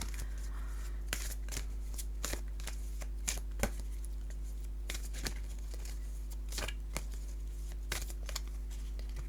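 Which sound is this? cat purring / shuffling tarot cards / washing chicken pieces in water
shuffling tarot cards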